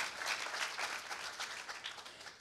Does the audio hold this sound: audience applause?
yes